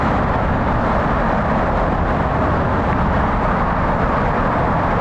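Dense, continuous roar of heavy freeway traffic heard from within a trench carrying 288,000 vehicles a day, a steady broadband rumble with no breaks, loud and close, no voices.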